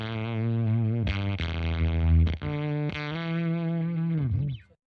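An electric guitar through a Fredric Effects Accomplished Badger overdrive pedal rings out thick and gritty, sustained notes and a few picked chords with a crunchy, saturated tone.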